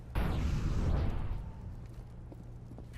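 CS:GO incendiary grenade thrown during a match: a loud burst of crackling, rushing noise that swells at once and slowly settles into a low steady burn, no voices over it.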